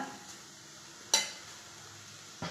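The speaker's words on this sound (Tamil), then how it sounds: "எல்லாத்தையும் சேர்த்து நம்ம நல்லா கலந்துட்டோம்" A spoon stirs chilli powder into vegetable momo filling in a pan over a soft, quiet sizzle, with two distinct clanks of metal against the pan.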